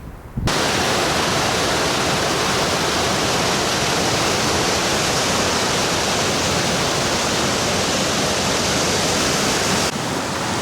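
A clean mountain stream in the Appalachian wilderness rushes in a loud, continuous, broadband wash of flowing water, close by and unbroken throughout.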